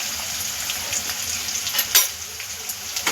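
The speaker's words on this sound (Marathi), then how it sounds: "त्यामध्ये ही हिरवी मिरची जी आपण एक कट करून घेतली होती ती टाकू" Slit green chilies with turmeric, coriander powder and red chili powder frying in a pan for a potato sabzi, a loud continuous close sizzle with light stirring scrapes.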